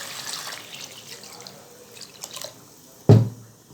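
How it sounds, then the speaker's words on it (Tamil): Water is poured into a cooking pot for chickpea biryani: faint trickling and dripping give way to one sudden, close splash near the end. "அந்த அளவுக்கு நான் தண்ணி இப்போ சேர்த்துக்கிறேன்."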